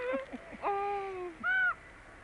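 A wild bird gives a few crow-like caws, short harsh calls and one longer drawn-out note, fairly close over quiet outdoor background.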